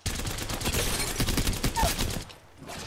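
Rapid bursts of gunfire from a gold-tier weapon in Apex Legends, loud, dense shots fired in quick strings for about two seconds, then a brief pause before another shot starts.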